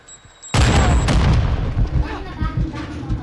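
A grenade blows up in a video game with a sudden loud boom, and its heavy rumbling roar lingers and slowly fades over the next few seconds.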